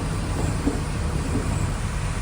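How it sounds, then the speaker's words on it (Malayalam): A local train passes at a station in Sri Lanka, a steady loud rumble and broadband roar with no distinct clacks standing out. "local train"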